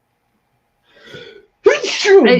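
A single sharp sneeze bursts out close to the microphone, followed at once by a person speaking.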